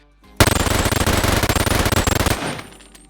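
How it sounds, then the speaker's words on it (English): A sustained full-auto burst from an MG-42 machine gun in the VR game Boneworks, rapid loud shots hammering close up for about two seconds before stopping abruptly and ringing out. "the sound of each shot, this, is being played over and over on full auto"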